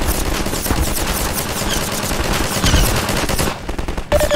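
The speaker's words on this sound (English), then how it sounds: "And they're gonna shoot." Heavy, continuous automatic gunfire in Half-Life 2, loud overlapping bursts of shots rattling on throughout, briefly easing near the end before one last sharp report.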